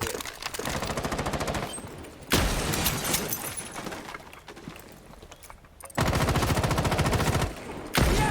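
Loud bursts of rapid automatic gunfire in Rainbow Six Siege come in long stretches separated by brief quieter gaps, close and dense, with no clear talking.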